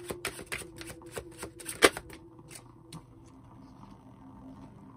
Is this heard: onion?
no